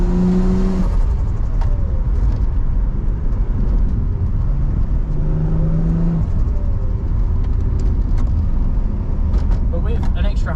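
A turbocharged RB30-powered Nissan Skyline R31 accelerates hard, filling the cabin with a loud, constant engine roar from start to finish while a person talks over it.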